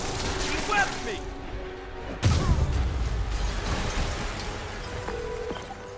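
A sudden heavy blast from the video game Marvel's Spider-Man Remastered hits midway through, a booming crash with a rumbling low tail, set among game effects and overlapping character dialogue.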